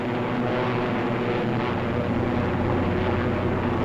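WWII fighter planes fly in formation, giving a steady, dense propeller engine drone that holds at a constant loud level throughout with no breaks.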